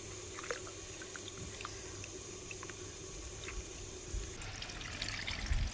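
Soaked tamarind water trickling and pouring while a village-style Tamil fish curry is being made, a steady close splashing with occasional drips and a louder pour near the end.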